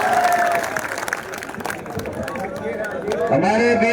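A crowd applauds at an election campaign rally for an independent candidate in Sikar, a dense clapping wash that fades as voices come through near the end.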